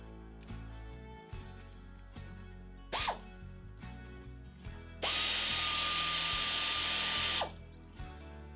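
A ratchet wrench clicks rapidly on a Harley-Davidson Sportster 883 engine during an S&S 1200cc Hooligan kit install, close bursts of clicking with a brief whine and a long loud power-tool whir partway through.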